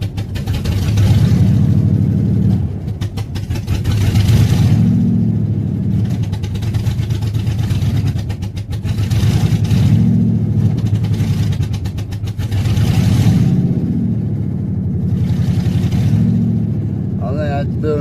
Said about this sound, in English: See when I give it gas what it's doing?